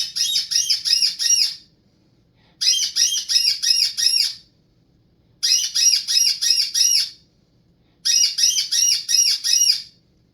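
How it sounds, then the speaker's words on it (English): An MCO predator coaxer game call sounds in four loud, rapid bursts of high-pitched squeaky chirps, each about a second and a half long, with short quiet gaps between them. "The predator coaxer call will do the same thing."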